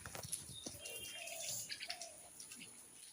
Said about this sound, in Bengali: সকাল সকাল রুমের ভিতরে একদম পুরা হাল্লা করতেছে পাখিটা